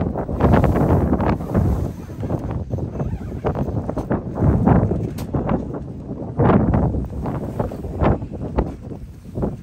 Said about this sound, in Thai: เราเห็นลมมันแรงมากนะคะ